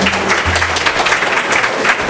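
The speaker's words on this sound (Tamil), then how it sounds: "அனைவரும் கைத்தட்டி உற்சாகப்படுத்துமாறு கேட்டுக்கொள்கிறோம்" Audience applause at a school event honoring Kamarajar's 122nd birth anniversary, steady dense clapping from a crowd throughout, loud and close with no pauses.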